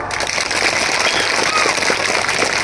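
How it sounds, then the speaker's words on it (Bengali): Steady applause from an audience at a Green India Foundation program in Karimganj, a dense wash of many hands clapping at even loudness throughout. "একটু জোরে হাততালি চাই"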